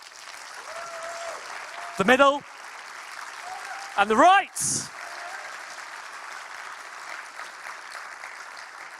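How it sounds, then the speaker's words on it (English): Audience applause at a game developer conference talk, a steady patter of clapping from the room with a voice speaking over it and a couple of brief louder bursts in the middle. "Round of applause from this side of the room"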